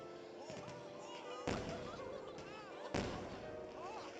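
Two heavy firework bursts in the Detective Pikachu video game land about a second and a half apart, each a sharp broadband boom with a crackling tail, over a steady bed of game music and ambience.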